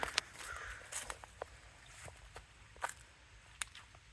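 Scattered short calls sound at a distance, several separate caws spread irregularly over a few seconds against quiet outdoor ambience.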